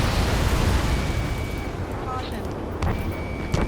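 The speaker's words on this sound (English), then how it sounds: "Gunfire and the roar of jets echoing through the streets." Heavy rumbling roar with distant booms and explosive bursts, a dense low-end wash of jets and gunfire echoing through streets in Ace Combat 7, with faint electronic beeps in the mix.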